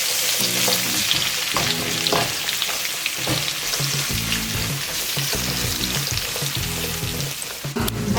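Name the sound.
carrot and pepper strips sautéing in a pan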